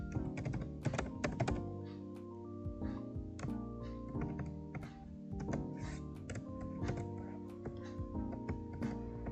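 A MySQL query being typed on a computer keyboard, with dense, continuous keystrokes close by and clear clacks throughout.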